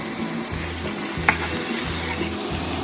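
Fish pieces fry in a pan over raised heat with a steady close sizzle, while a spoon scrapes and stirs in short repeated strokes and clicks lightly against the pan.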